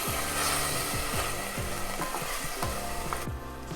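Browned onions sizzle and crackle in a pan while apple butter is added for vegetarian baked beans, with rhythmic stirring scrapes repeating under the steady hiss.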